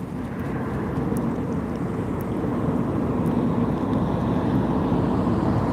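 An EasyJet passenger jet on a Glasgow to Alicante flight passes overhead near a beach, a continuous broad roar that swells gradually and holds steady throughout, with no talking.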